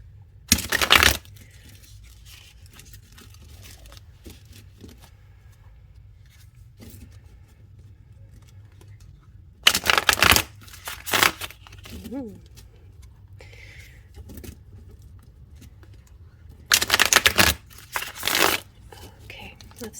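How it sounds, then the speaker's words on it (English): Three short bursts of a tarot deck riffling and shuffling, a few seconds apart, close by, with quiet stretches between. "let's give it a good shuffle"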